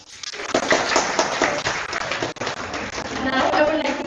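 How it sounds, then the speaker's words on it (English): Applause from a seminar audience for the speakers, a dense, steady patter of many hands clapping nearby for about four seconds with a brief dip midway. "Everyone, please give them a big round of applause"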